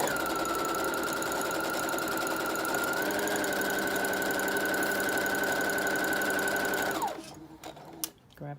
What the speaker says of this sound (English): Okay, so you'll sew along the sides.